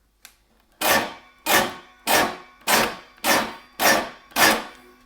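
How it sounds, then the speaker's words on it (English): Muted guitar rakes for a shuffle, seven evenly spaced percussive strums across the strings, each a sharp scratchy attack cut short by the palm, close and alone. "every time we rake it, our hand is going to mute the rake that we've actually just done"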